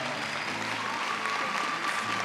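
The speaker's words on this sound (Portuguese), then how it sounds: "vamos aplaudir, isso mesmo." Studio audience on a Brazilian family TV program claps for the production team, with a loud, continuous wash of applause over a low hum and no speech.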